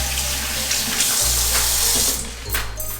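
A kitchen tap runs steadily while hands are washed during dog-food meal prep, a loud continuous rush of water with slight shifts as the hands move under the stream.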